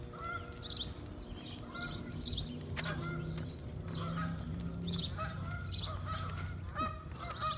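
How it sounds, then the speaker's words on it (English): Geese honk repeatedly at a distance, overlapping calls rising and falling over a soft outdoor background on a grassy institutional campus. "you heard the geese?"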